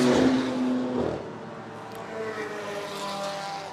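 BMW race cars approach the finish at a circuit race, their engines a loud, sustained drone that starts strongest and then settles into a steady, slightly fainter hum.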